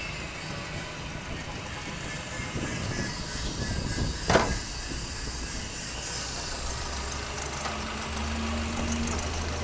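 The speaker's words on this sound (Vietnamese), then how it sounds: "Máy thi thầm các bạn nhé." A 2007 Kia Morning's engine idles quietly and evenly in a low steady hum, with a brief mechanical rattle midway and faint background noise throughout.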